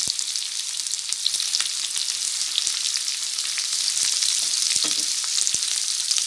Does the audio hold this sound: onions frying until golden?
yes